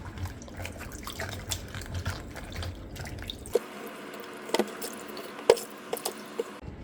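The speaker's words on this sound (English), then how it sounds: "Before I make my juice, I always love to rinse all the stuff." Water runs and drips while radicchio and cucumber are rinsed before juicing: a steady wet patter that drops away halfway through, leaving scattered, distinct drips and small splashes close by.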